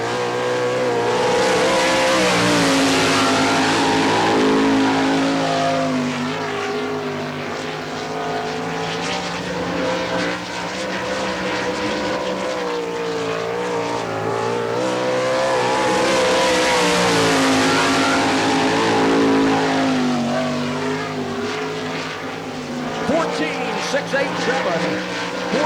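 A sprint race car runs a qualifying lap at Barberville speedway in Florida during the All Star Circuit of Champions, its engine roaring loud and continuous with rising and falling revs as it circles the track, a voice talking over it.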